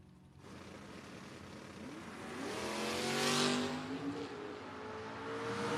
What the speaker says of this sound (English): 1973 Duster to the 631 of Kevin Spencer in the Nova